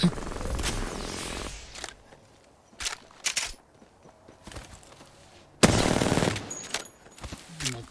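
Enemy gunfire in an Apex Legends-style battle royale shooter: short loud bursts of automatic fire open the clip and return near the end, separated by scattered single shots and quieter gaps.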